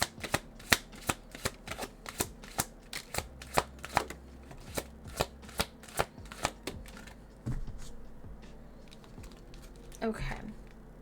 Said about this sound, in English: Oh, the shuffle in here is so nice.